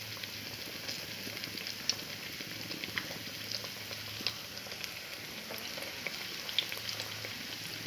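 Batter-dipped jackfruit pieces fry steadily in hot oil over a moderate flame, giving a continuous close sizzle with scattered small pops and crackles, and no voices over it.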